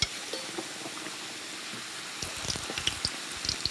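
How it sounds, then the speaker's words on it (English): South Tyrolean krapfen fry briefly in very hot oil, giving a steady crackling sizzle with scattered pops and bubbling that grow busier toward the end. "It's important that the oil in which the krapfen are briefly fried is really hot"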